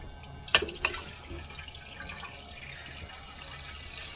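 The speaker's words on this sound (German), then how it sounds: "Jetzt brauchen wir jetzt noch ein bisschen Wasser." Water is poured into a small pot on a compact camping stove to cook pasta. There are a couple of clinks and splashes, then a steady, soft trickle of running water. No one talks.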